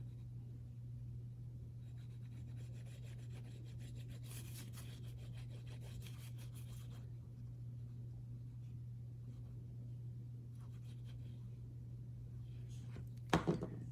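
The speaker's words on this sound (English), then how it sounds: "I use my burnishing tool. Just go back and forth and get that nicely burnished." Burnishing tool rubbed back and forth along a handmade leather wallet edge, faint soft scraping strokes in bursts over a steady low electrical hum, ending with a couple of sharp knocks.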